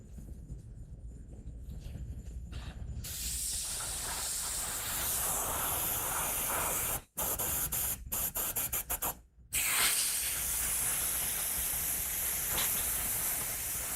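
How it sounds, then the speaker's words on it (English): An airbrush sprays red airbrush makeup paint in a loud, close, steady hiss. The hiss starts after a quieter stretch and cuts off briefly several times as the trigger is released and pressed again. "this is red airbrush makeup, airbrush paint"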